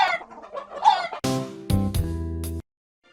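A cartoon hen clucks in a children's counting rhyme: a short run of quiet chatter gives way to a loud, sustained, tonal cluck and a few quick repeated bursts, then silence.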